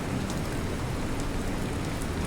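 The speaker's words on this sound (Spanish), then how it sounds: "resbaladizo por el lodo del agua de lluvia que goteaba a través del denso dosel superior" Steady rain pattering and dripping through dense forest canopy, a continuous close wash of drops with no pauses and no voices.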